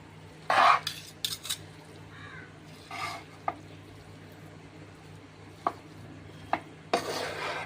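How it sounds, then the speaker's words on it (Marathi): Noodles stirred in a pan with a utensil, giving sparse, close scraping and clinking taps over a low steady hum, with a faint sizzle in the background and no speech. "आपण ढवळून घ्यायचं चांगलं."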